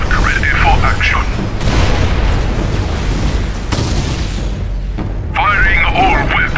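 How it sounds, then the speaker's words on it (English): Tau XV-88 battle suits open fire in Dawn of War: Soulstorm, a run of loud booming cracks and echoing blasts filling the scene, with bursts of game voice lines over the barrage. "Firing all weapons."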